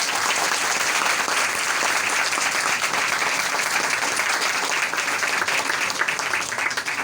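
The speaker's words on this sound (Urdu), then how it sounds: "زوردار تالیاں بجائیں۔" A church congregation applauding loudly, dense sustained clapping from a large crowd that continues evenly throughout with no break.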